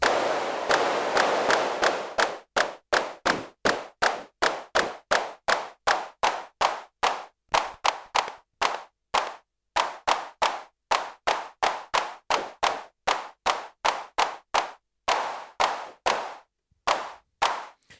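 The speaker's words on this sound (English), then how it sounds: "you can kind of get a clap sound." A Simmons Clap Trap electronic drum unit fires a long series of sharp, dry synthetic claps, starting as a dense rapid burst and then settling into evenly spaced single hits with brief gaps, loud and close with no voices.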